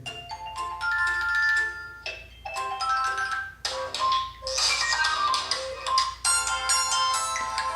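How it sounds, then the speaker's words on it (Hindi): A melodic phone ringtone plays alone on an Itel A23 Pro, bright and tinny through its small earpiece speaker, with short looping musical phrases. "तो यहाँ से रिंगटोन चला कर देख लेते हैं।"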